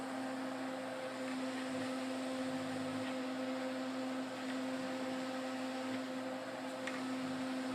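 Air from a fan pushes through a small metal grate made from a disc cutter wheel, producing a constant loud whooshing rush with a steady low hum beneath it and no change over several seconds.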